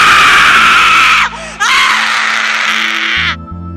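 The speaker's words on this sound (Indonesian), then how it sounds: "langsung berteriak histeris" A dramatized sound effect of a woman screaming hysterically, loud and piercing, in two long shrill bursts separated by a short break.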